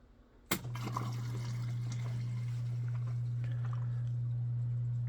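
A waterfall spray booth with triple fans starts up with a sharp click, then water rushes continuously down its wall over a steady low hum from the fans and pump.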